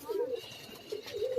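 Pigeons cooing in a rooftop loft in Karachi, two soft rolling coos close by, with faint background noise between them.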